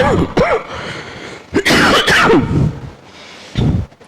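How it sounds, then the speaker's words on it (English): Several harsh coughs and throat clearings close by, in separate bursts with pauses between them, one fit louder and more prolonged. "sorry, actually I had cough"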